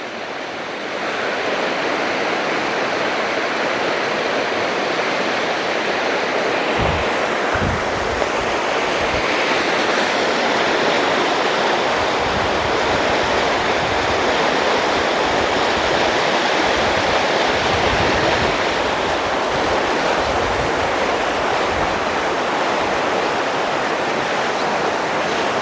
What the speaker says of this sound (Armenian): Ինչու է աղմկում գետը, որովհետև վարարել է սիրելի հետևորդներս, գետի ձայնը ավելի է շատացել, ուժեղացել է